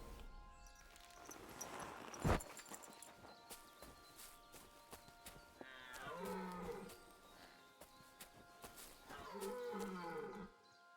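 Stags bellow in Kingdom Come Deliverance 2: two long, drawn-out calls in a quiet outdoor scene, the second arriving a few seconds after the first, with soft footfalls between them.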